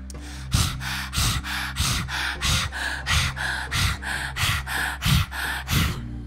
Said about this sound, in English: Stick the tongue out, breath of fire over the tongue.